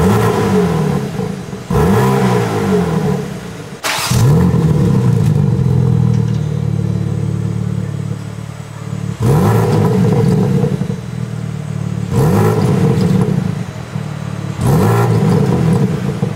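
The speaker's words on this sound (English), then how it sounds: "I did startup of the performance mode as well as the regular startup" A BMW M4 Competition xDrive fires up several times in turn, each exhaust startup a sharp loud bark that settles into a deep, steady rumbling idle, close and with no voices.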